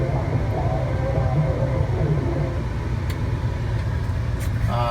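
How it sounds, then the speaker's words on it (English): A 1967 Chevelle SS pulls away near a local high school, its engine giving a steady, close, heavy rumble throughout, with a few faint higher ticks near the end. "You can see the car takes off just fine."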